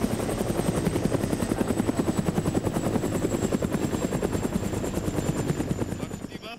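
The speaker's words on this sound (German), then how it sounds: "dann ist auch noch der Helikopter so laut" In the Arma 3 video game, a helicopter thumps loudly and close by with fast, steady rotor chop that fills the scene, fading slightly at the end.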